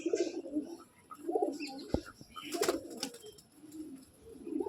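Pigeons, one with light-coloured eyes, coo in soft repeated low bursts close by, with a sharp click and a few faint higher chirps between calls.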